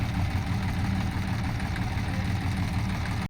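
A tractor engine runs steadily at idle while its trailer is unloaded, a close, loud low rumble with a faint knocking pulse and no pauses.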